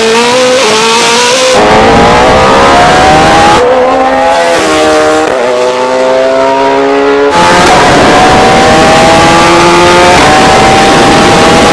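A Koenigsegg Jesko and a tuned Hayabusa motorcycle accelerate hard in a drag race, with loud engines revving up through several gear changes and rising pitch sweeps between shifts.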